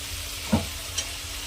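Continuous sizzling of food frying in a pan with turmeric and salt added, close by, with a brief stir or scrape and a faint clink.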